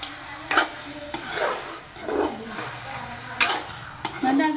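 Food frying in a pan in a home kitchen is stirred with a utensil, giving scraping strokes over a steady sizzle in a repeated rhythm, close by with no talk.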